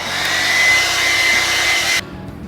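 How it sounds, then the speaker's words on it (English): An air dryer blows loudly and steadily at close range on a Ducati Panigale 959 Corse motorcycle, a harsh continuous whine of air that cuts off abruptly near the end. "The next step is actually grab an air dryer."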